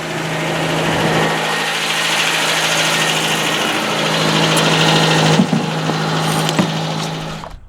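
A 1978 Toyota Corolla engine, newly fitted with electronic fuel injection, idles steadily and fairly loud with a constant low hum, running alone for several seconds before cutting off near the end.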